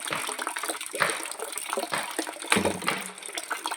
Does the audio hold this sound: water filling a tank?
yes